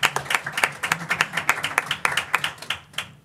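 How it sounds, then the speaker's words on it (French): Applause at a municipal council meeting: a small group claps steadily for about three seconds in a room, the dense overlapping claps forming a continuous patter that fades slightly toward the end, with no talking. "Une bonne main d'applaudissements."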